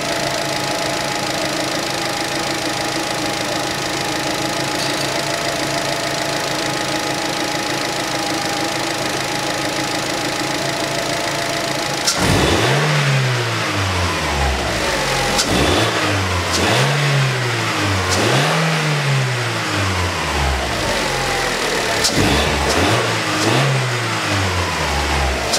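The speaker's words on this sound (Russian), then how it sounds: "Сейчас погазую, посмотрю, будет у него этот гудеж" A warmed-up 2011 Chevrolet Cruze with the F18D4 engine, just fitted with new cam phasers and a new timing belt, idles steadily for a while, then revs sharply four times in a row, each rise and fall clear and close.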